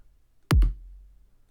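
One deep, punchy electronic kick drum hits once, a sharp thump with a brief low boom decaying into silence.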